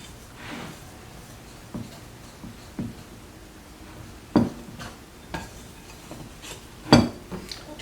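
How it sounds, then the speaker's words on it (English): Sourdough dough with cocoa powder gets mixed in a bowl with a Danish dough whisk, giving soft scraping strokes and occasional louder knocks against the bowl in an irregular rhythm, with no talking. "I'm going to use my Danish dough whisk, and I'm just going to mix this dough all up"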